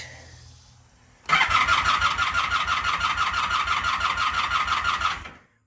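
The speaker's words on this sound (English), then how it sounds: "while it'll turn over, that battery's not bad, it won't fire." A motorcycle engine cranks over steadily on its starter for about four seconds without firing, a close, loud rhythmic churning. The bike runs on non-ethanol gas and has a good battery. Quiet room noise comes before it, and nobody speaks.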